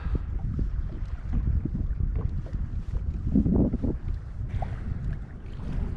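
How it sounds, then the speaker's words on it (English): Wind buffets a kayak on a lake during early-August trout fishing in bad weather, a near, uneven rumbling gust noise with water lapping underneath and no talking. "Wind is pushing us around, but just keep an eye on the fish finder."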